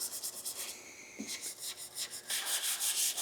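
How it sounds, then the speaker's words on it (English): A car hood is hand-sanded with 600 grit sandpaper in a garage before painting, a steady rhythmic scrubbing of back-and-forth strokes, close and fairly loud, with no talking. "So make sure it's sanded nice and smooth with 600."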